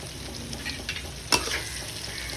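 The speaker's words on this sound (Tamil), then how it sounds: "கொத்தமல்லி ஆட் பண்ணி நல்லா மிக்ஸ் பண்ணி கொடுத்துருங்க." Chopped coriander is stirred into onions frying in a pan while cooking mutton semi-gravy, giving a steady soft sizzle with one sharp scrape of the spoon partway through.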